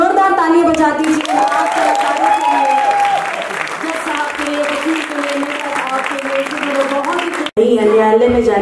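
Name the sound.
audience applause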